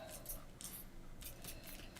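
Scissors being picked up and handled at a craft table, with faint light metallic clicks and rustles scattered through the clip, quiet and close.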